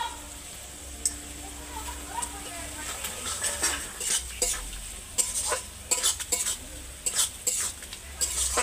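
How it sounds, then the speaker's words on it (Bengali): Snake gourd masala stirred in a pan, a spatula scraping and clinking against metal in irregular bursts over a soft sizzle, close by, with a faint voice now and then. "দিয়ে ভালো করে নেড়ে ছেড়ে আমি চিচিংয়েটা যে ভেজে রেখেছিলাম ওইটা দিয়ে দেবো।"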